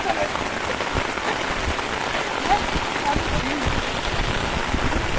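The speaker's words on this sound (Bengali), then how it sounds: "আর এখন তো মুষলধারে বৃষ্টি নেমেছে, কাক ভেজা হয়ে আমরা নৌকাতে আছি।" Heavy monsoon rain pours onto an open boat on the Bortir Beel wetland, a dense, loud, unbroken patter that stays steady throughout.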